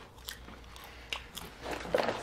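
Crunchy, salty-spicy Gardetto snack pieces bitten and chewed close to the mic, several distinct crisp crunches that thicken into a denser burst of crackly chewing near the end.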